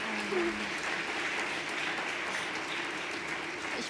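Audience applause after a panel discussion on civil societies under pressure, a steady continuous patter of clapping at moderate level, with a faint voice briefly over it.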